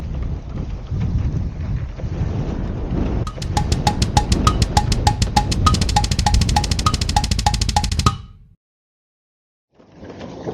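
Strong wind in Vassiliki, Greece roaring and buffeting a microphone for several seconds, with rapid rhythmic clicking over it before an abrupt silence, then the wind returns.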